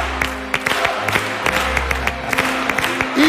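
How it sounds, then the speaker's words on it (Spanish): Scattered claps and cheers from a theatre audience at a talent show final, sharp uneven hand strikes over a low hum, fairly close and moderately loud. "¡Aplauso grande para ella!"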